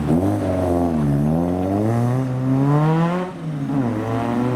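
A Series 1 Jaguar E-Type classic sports car accelerating hard away from a car show, a loud, close engine roar climbing through revs with a brief dip between gears before pulling again.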